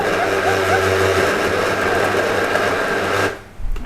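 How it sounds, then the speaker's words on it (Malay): Electric blender motor running steadily at high speed while grinding a heavy mixture for green chicken rendang, loud and continuous, then cutting out abruptly near the end. "Ni satu bagus blender ni."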